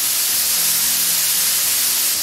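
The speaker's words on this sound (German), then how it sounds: "Das ist die Pfanne. Das sind die Nudeln. Kochen jetzt feuchtfröhlich vor sich hin." Steady broadband hiss and sizzle from noodles cooking in a pan, constant and close with no talking.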